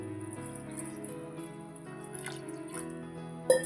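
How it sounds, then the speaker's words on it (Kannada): Water poured into a pressure cooker holding lentils, tomatoes and vegetables, a quiet, steady trickle with a ringing pitched tone that rises as the vessel fills, ending in a brief splash. "ಈಗ ನೋಡಿರಿ, ಇದಕ್ಕೆ ಸ್ವಲ್ಪ ನೀರು ಹಾಕ್ಕೊತೀನಿ."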